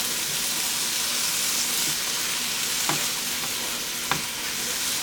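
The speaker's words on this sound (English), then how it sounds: "Now I'm frying the vegetables." Vegetables sizzle steadily in a hot pan, a constant crackling hiss with a couple of brief clinks from stirring.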